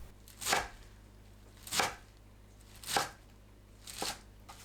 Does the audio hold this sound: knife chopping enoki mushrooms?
yes